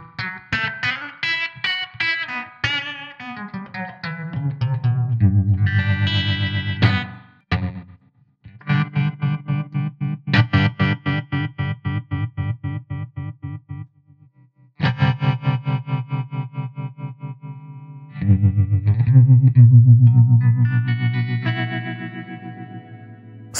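A guitar runs through effects pedals set for distortion and chorus, playing choppy, repeated note bursts with short pauses between phrases, loud and close with a thick, shimmering tone.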